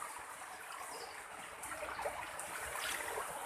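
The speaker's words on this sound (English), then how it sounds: "The water is overflowing from the Moyog River. It's quite swift." Swift floodwater from the overflowing Moyog River surges past in a flooded village, a steady broadband rush and hiss that swells slightly louder toward the end, with no voices.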